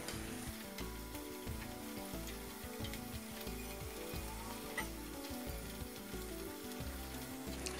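Samosas (singara) deep-frying in hot oil in a Bangladeshi hotel-style preparation, giving a steady, dense bubbling sizzle with occasional stirring, close and continuous, with no talking.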